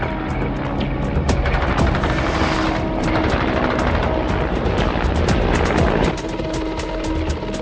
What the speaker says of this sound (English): The armed Mi-4 became the first Soviet serial firing support helicopter.